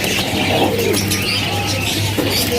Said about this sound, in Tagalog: Kalapati.